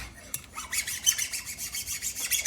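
A bastard file rasps over the face of a new ring gear for a Jeep Gladiator, giving close, repeated scraping strokes in an uneven rhythm with no talking.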